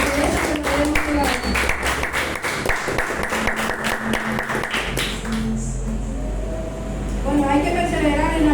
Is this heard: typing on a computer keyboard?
no